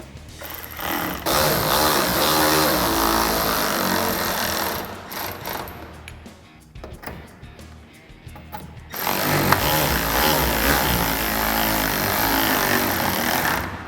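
A power tool with an 8mm socket whirs steadily, running bolts into Raxiom LED tail lights on a Jeep Gladiator JT, loud and close, with a brief quieter pause in the middle before the motor runs again.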